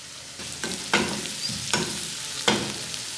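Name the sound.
spring onions frying in a pan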